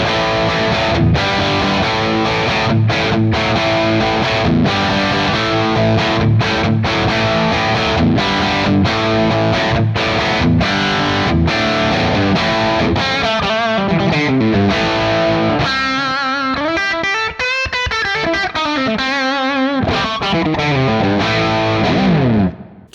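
Friedman JEL-20 guitar amp with the gain turned all the way up, loud saturated distorted electric guitar playing steady chugging chords, then shifting to sustained bending lead notes, continuous with no talking.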